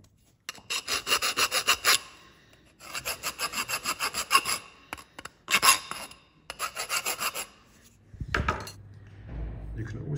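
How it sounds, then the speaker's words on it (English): Flat file deburring the outside edge of a cut copper pipe: close, rhythmic bursts of rasping strokes with short pauses between runs, ending in a dull knock. "remove the burrs on the outside using a flat file"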